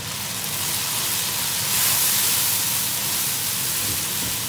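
Turmeric, chili, coriander and cumin sautéing in a pan for kadhi pakora give a steady, even sizzling hiss that swells slightly midway.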